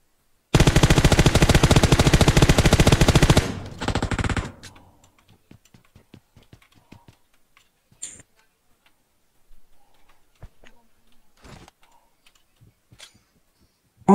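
Rapid automatic gunfire in the battle royale video game PUBG, a dense loud burst for about three seconds, then a shorter burst, followed by sparse faint clicks and thuds.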